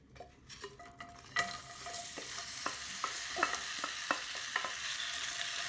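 Sliced renkon (lotus root) added to hot oil, a sudden burst of sizzling after a quiet start, then steady frying with repeated clicks and scrapes of stirring, close by.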